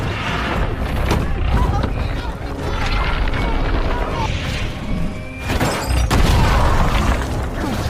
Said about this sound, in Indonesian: Dia pun berusaha untuk menyelamatkan diri dari ledakan pipa gas itu